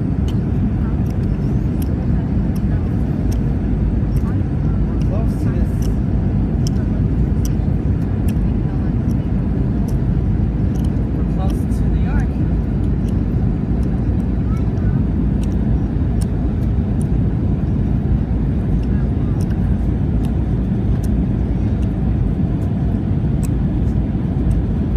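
Loud, steady roar of an airliner cabin during landing approach, a constant low engine and airflow drone filling the space, with faint clicks and a voice briefly heard beneath it.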